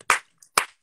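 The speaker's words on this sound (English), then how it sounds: "Oh, yes for the hand clap." Two sharp hand claps ring out close and clear about half a second apart, with silence in between.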